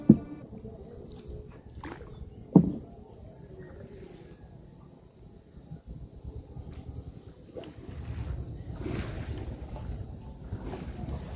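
Small new fishing boat moving slowly through a narrow Sundarbans mangrove creek, a low rumbling hum with a few knocks and wind buffeting, fairly quiet and close, no talking.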